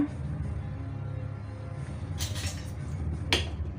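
A spoon working through coconut curry in a cooking pot: a low, steady simmering bed broken by two sharp metallic clinks of utensil against pot near the end, with no talking.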